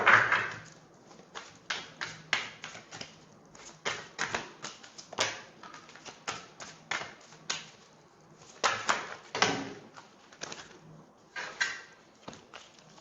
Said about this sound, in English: I'll just shuffle again. There were a lot of cards.